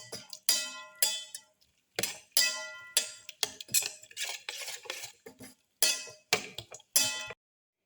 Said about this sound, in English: Thoroughly mix in the black pepper.